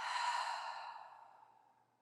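A deep, open-mouthed exhale closes a yoga session, one long breathy sigh heard close and soft that fades away over about two seconds.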